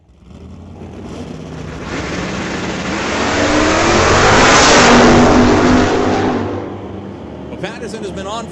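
Drag race cars, including a Chevrolet Chevy 2, launch off the line with a loud, swelling engine roar that builds to a peak and fades as they pull away, while an announcer talks over the noise.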